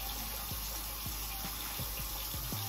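Tap water running steadily into a sink for face washing, a continuous hiss with a few soft splashes and low thumps as hands dip into the stream.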